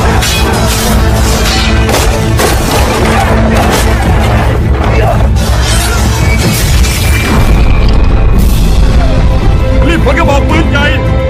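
Cannons firing in a dubbed action movie battle, heavy booms and crashing blasts piling up over a dense, loud din of chaos, with shouted voices mixed in throughout.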